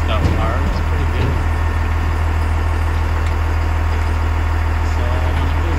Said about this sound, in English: It's a small dump truck